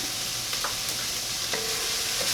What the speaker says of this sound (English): I'm going to add a couple cloves of chopped garlic.